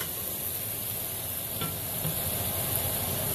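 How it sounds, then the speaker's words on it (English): Onions caramelizing in a hot pan give off a steady, even sizzle, a soft continuous hiss with no voices and no interruptions throughout. "So I'm caramelizing my onions now"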